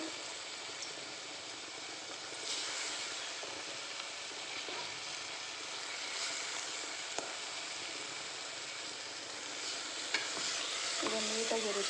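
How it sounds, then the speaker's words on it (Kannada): Tomatoes deep frying in a pan for paneer pulao, giving a steady close sizzle that continues throughout, with a few brief stirring scrapes toward the end. "ಹಾಕಿ ಫ್ರೈ ಮಾಡ್ಕೊಳ್ಳೋಣ ಸೊ ಇದೆಲ್ಲ ನೀಟಾಗಿ ಡೀಪ್ ಫ್ರೈ ಆಗಬೇಕು"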